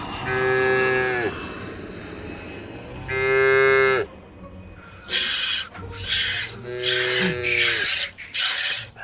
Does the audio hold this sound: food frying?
no